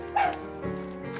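A small dog on a chain gives a short yip or bark near the start, then quieter whimpering sounds follow, heard fairly close outdoors on a snowy May day.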